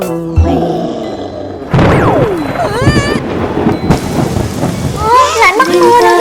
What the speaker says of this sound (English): Lại mắc mưa nữa rồi.